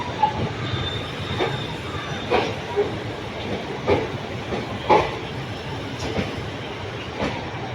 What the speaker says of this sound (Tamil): Mangalore central Puducherry express weekly அருமையான ஒரு வண்டிங்க செம்ம ஃபாஸ்ட்டு